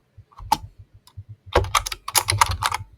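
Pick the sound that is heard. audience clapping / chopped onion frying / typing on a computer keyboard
typing on a computer keyboard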